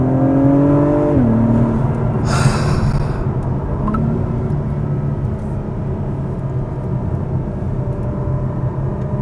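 A 2021 Acura TLX Type S accelerating, its engine note rising and then dropping sharply at a gear change before a steady, loud drone, heard from inside the car.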